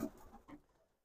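Racing pigeons in their loft give a brief, faint, soft cooing murmur close by, fading out within a second.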